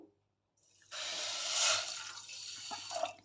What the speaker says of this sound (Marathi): साखर भिजेल एवढं पाणी घातलेलं आहे